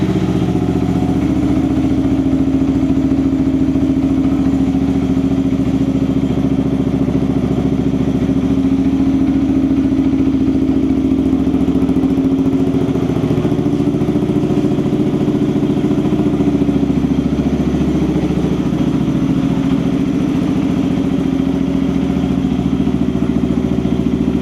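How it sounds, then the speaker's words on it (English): A modified Yamaha MT15 motorcycle engine runs steadily up close, a loud, even, throbbing drone that holds without a break and has no speech over it. "let's go ahead and start the bike. Let me let you hear how it sounds now"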